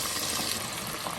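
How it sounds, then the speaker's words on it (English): Oxtails frying in hot oil, a steady dense sizzle with fine crackling that fills the clip evenly, close and continuous with no talk. "we're gonna let these fry until they get golden brown"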